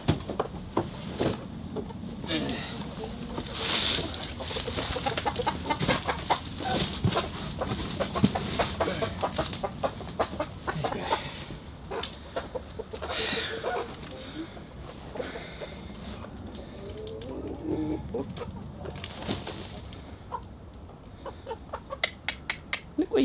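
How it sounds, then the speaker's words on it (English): Chickens clucking and scratching about inside a polytunnel on an off-grid smallholding, soft scattered clucks and rustling over a constant noisy background, with occasional sharp ticks. "we were glad to have got the chickens into the polytunnel"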